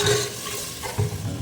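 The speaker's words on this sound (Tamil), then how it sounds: "கொஞ்சம் அப்படியே எண்ணெயில் வதங்கட்டும் மசாலா" Masala paste sautéing in oil for a fried fish kulambu, a close, brief bubbling sizzle with a spoon stirring through it.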